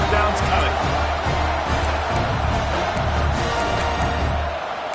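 A college football stadium crowd roars continuously during a TCU vs Penn State game as a field goal attempt approaches, a dense wash of cheering and shouting under a play-by-play announcer's voice.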